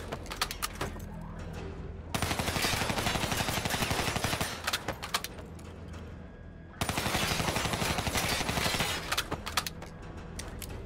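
Sustained bursts of vehicle-mounted turret machine gun fire in the shooter game Black Ops III, two long loud stretches of rapid automatic shots separated by a quieter gap of scattered gunfire and action noise.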